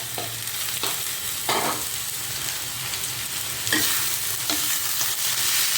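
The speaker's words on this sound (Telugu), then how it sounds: "ఇప్పుడు నేను 1/2 కిలో కంటే కొంచెం ఎక్కువ ఉంటుందండి కీమా, చికెన్ కీమా వేస్తున్నాను." About half a kilo of chicken keema sizzles and crackles in a hot pan, a dense continuous fry broken by repeated scrapes and clatters of a spoon stirring the mince.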